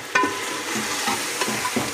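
Halved tomatoes are stirred into a sizzling pot of Bombay biryani, with a spoon scraping and clattering a few times against the pan over a continuous frying hiss.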